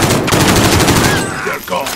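Rapid automatic gunfire in Call of Duty Modern Warfare, a loud dense burst of close shots rattling continuously before tapering off.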